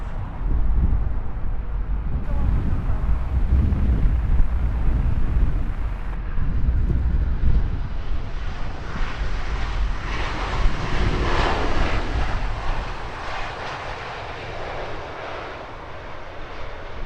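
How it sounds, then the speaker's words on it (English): A red-nosed British Airways short-haul jet touches down on runway 27 right at Heathrow, its engine roar and rumble loud at first, then swelling into a rushing whine and slowly fading as it rolls out, with wind buffeting the microphone. "we watch this red-nosed British Airways short haul touching down here"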